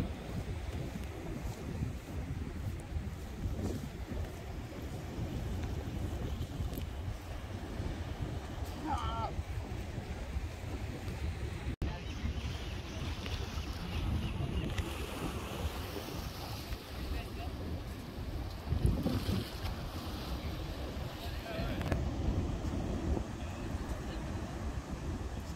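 Pacific Ocean waves surge and wash in the distance at a California pier under heavy wind buffeting the microphone, with occasional voices nearby.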